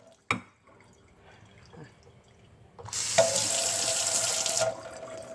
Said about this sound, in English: Just want to lightly wet the oatmeal.